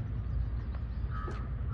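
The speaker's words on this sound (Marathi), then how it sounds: "ते चिमण्यांचा आवाज येतोय." A few sparrows chirp faintly in the distance over a low outdoor rumble, with brief scattered calls.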